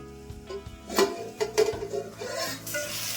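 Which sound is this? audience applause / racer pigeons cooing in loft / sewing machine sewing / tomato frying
tomato frying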